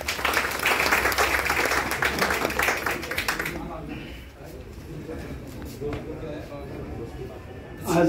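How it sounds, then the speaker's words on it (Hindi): A crowd at a retirement day celebration breaks into dense, loud clapping for about three seconds, then the applause thins to scattered claps under background murmur. "तालियां बजाइए प्लीज।"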